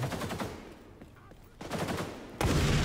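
Bursts of rapid gunfire from long-range shooting in the game XDefiant, with a loud volley, a short pause, then more sustained automatic fire at fairly close range.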